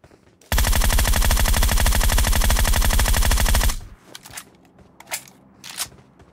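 Automatic weapon fire from a PUBG Mobile match blasts loud and continuous for about three seconds, then stops, followed by a few scattered sharp cracks and quieter game noise.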